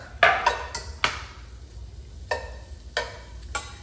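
Sliced smoked turkey sausage cooking in a pot, with a quiet steady sizzle under a string of sharp metallic clinks and taps spaced unevenly, from a spoon against the pot.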